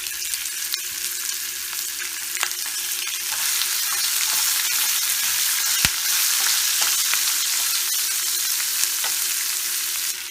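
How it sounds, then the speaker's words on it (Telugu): Onions, curry leaves and green chillies frying in a pan for a French beans fry: a continuous close, bright sizzle with scattered crackles and occasional clinks of a stirring spoon, with no talking. "ఆనియన్స్ ఫ్రై అవుతున్నాయి కదా"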